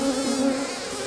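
Honey bee buzzing close by at an opened queen cell in a hive nuc in spring, a steady drone with no talking.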